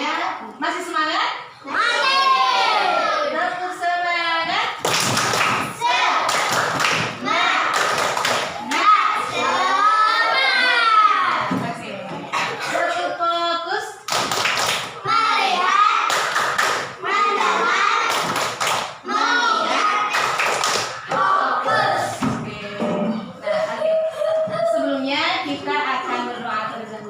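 Children in a classroom clap their fingers together in a counting clapping game, sharp rhythmic clap bursts alternating with children's chanting voices throughout.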